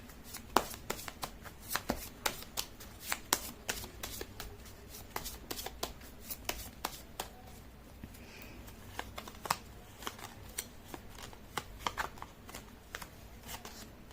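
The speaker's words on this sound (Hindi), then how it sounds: "कर लेती हूँ कार्ड की शफलिंग" Tarot cards are shuffled by hand in a quiet room, producing a quick, irregular series of soft crisp taps and riffles that continue throughout, close and fairly faint.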